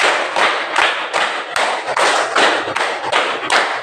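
Classroom hand clapping in a counting clap-pattern game, about nine loud, crisp claps in a steady rhythmic sequence with brief pauses between groups.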